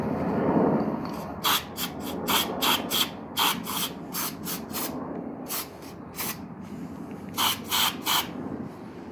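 Short bursts of hissing spray from an aerosol cleaner can onto a car's idle control valve, repeated many times in quick rhythmic pumps with brief pauses, close to the microphone.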